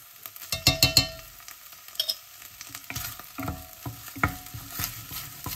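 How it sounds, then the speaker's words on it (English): Minced ginger and garlic paste sauteing over a medium flame in a pan, with soft sizzling under repeated scraping and stirring strokes of a spoon against the pan. "Now you're going to saute this until the raw smell disappears."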